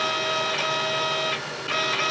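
The Z-axis of a 3D printer being fixed for Z banding and ribbing drives upward with a steady, close motor whine. The tone wavers slightly and dips briefly before resuming, with no talking.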